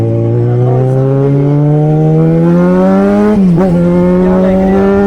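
A motorcycle engine revs steadily upward, loud and close, holding a rising drone for several seconds before a brief dip and recovery, with no voices over it.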